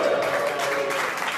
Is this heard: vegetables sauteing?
no